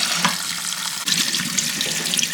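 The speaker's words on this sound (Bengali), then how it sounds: "তো এটা জল দিয়ে ধুয়ে নিই" Partly boiled chow mein noodles are rinsed under a running tap, a steady, close, continuous rush of water splashing into a sink with no pauses.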